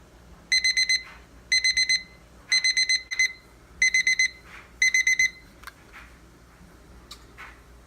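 A kitchen timer set for baking a pumpkin pie in the oven beeps in five clear bursts of rapid pips, evenly spaced, loud and close, followed by quieter handling noises.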